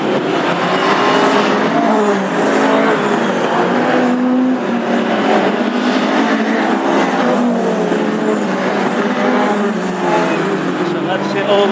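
Classic hot rod race cars roar away at the start of a heat at Hednesford, a dense, loud engine drone that holds steady throughout under a commentator's continuous talk.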